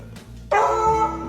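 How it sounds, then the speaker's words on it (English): A dog gives one sharp, close bark after a faint whimper, then its bark trails off into a brief ringing tail indoors. "You barking at me already?"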